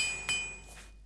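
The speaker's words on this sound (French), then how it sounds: "je vais péter tous mes marteaux d'apprenti" A repair hammer strikes armor in the video game Oblivion, one sharp metallic clank near the start that rings briefly over a steady, faint game background, with a softer swish following.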